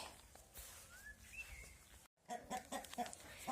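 Farmyard chickens clucking and calling intermittently nearby, with a short break in the middle, amid outdoor background noise.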